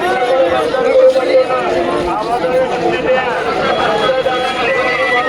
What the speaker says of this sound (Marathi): यात्रेला गर्दी भरपूर आहे